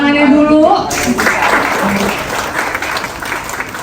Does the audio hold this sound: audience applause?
yes